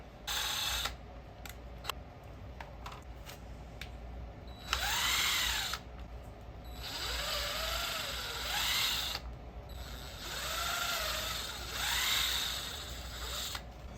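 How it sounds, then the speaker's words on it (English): A power drill bores holes for self-tapping screws in carbon fiber vent block-off parts for a Mazdaspeed3, with wood underneath: a few short clicks, then three rising and falling whirring bursts, close and loud. "Now I'm gonna go ahead and drill them out."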